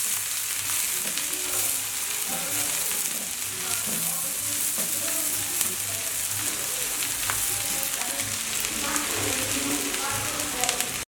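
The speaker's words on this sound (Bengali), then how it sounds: "এবার এগুলোকে একটু নেড়ে চেড়ে হালকা ভেজে নেবো" Chopped onions and green chilli slices fry in oil for a pumpkin dish, a steady dense sizzle with occasional stirring scrapes running throughout at close range.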